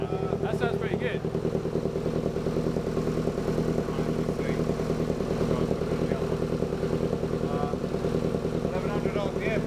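The Mexorcist Mk2 engine idles steadily at about 1100 RPM right after its first start-up, a loud, even, lumpy throb with a rapid regular pulse; people talk over it.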